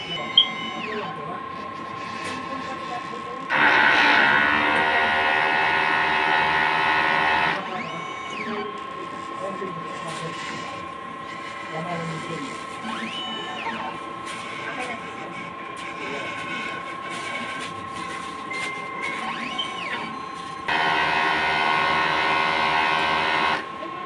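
An inkjet printer runs a head cleaning cycle, its motors whirring and buzzing in loud bursts separated by quieter mechanical clicking and carriage movement, close up with no one talking.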